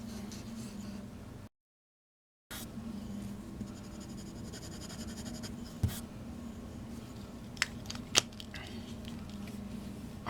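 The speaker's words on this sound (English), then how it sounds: "And for our first writing test, we have the 20-pound copy paper." A fountain pen filled with Noodler's Fox red ink writes on 20-pound copy paper, giving a soft, steady scratching with a brief silent gap and a few sharper nib taps.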